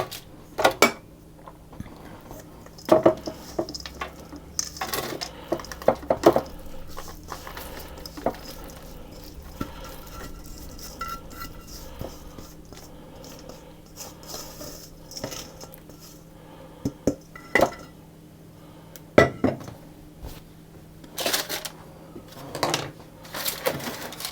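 Nanaimo bar base is spread and pressed into a cake pan, making soft scattered taps, scrapes and clinks of a utensil against the pan, close and fairly quiet.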